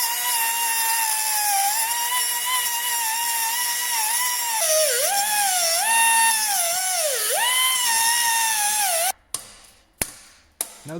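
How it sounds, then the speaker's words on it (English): A power tool cuts off an old exhaust clamp on a Toyota Yaris, a loud, steady high-pitched grinding whine that dips in pitch under load several times, then stops, followed by a few sharp metallic knocks. "Now that we've cut off the old clamp"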